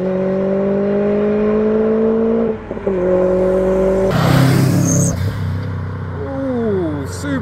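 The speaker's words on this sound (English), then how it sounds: "Here comes the Lotus Elise," A Lotus Elise sports car passes at speed during a Japanese car meet, its engine tone climbing and then dropping through the gears as it goes by, with crowd chatter in the background.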